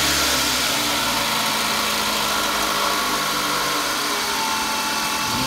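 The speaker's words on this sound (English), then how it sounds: "we'll turn the car on so you can hear the difference" A Toyota Camry engine idles steadily at close range after a water pump replacement, a continuous low rumble with slight fluctuations and no talking.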